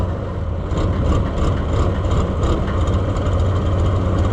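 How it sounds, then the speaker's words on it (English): Oliver 1655 diesel tractor engine idling steadily and loud, with a deep low rumble and an irregular, uneven miss that stutters unpredictably throughout, no voices. "Hear how it's not even a consistent miss, it's all over the place."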